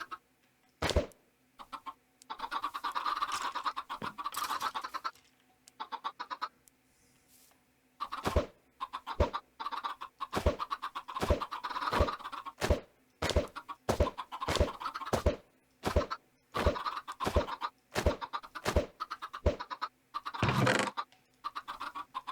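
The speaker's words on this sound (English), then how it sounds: "What is with all these evil chickens? They should not be able to get free." Chickens cluck in the video game Minecraft, a long series of short, sharp, evenly spaced blips over a soft continuous game background.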